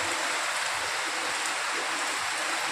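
Heavy monsoon rain pours steadily in the evening, a dense, continuous hiss of water striking surfaces with no pauses, loud and even from start to finish.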